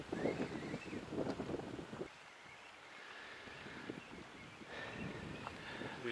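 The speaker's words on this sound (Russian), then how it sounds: "Ветер немножко стих." Gusty wind buffets the microphone on a lake or river shore during fishing, rising and falling in loud rough bursts with a calmer stretch in the middle.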